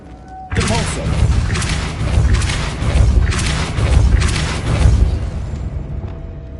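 Depulso spell effects in Hogwarts Legacy: a loud sequence of booming, crashing blasts and thuds pulsing roughly once a second over about six seconds, with a short lower tone just before.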